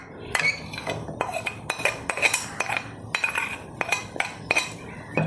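Chopped onion, green chilli and garlic are mixed in a bowl with a spoon, producing irregular close metallic clinks and scrapes against the dish.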